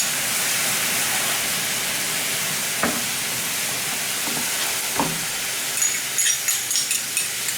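Water and ketchup hit a hot pan of vegetables that were stir-fried without oil, setting off a steady, loud hissing sizzle with a few dull knocks and some light clicking near the end.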